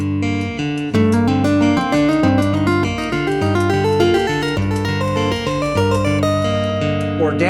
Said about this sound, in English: So I'm just playing 4 notes progressing upward off of each one.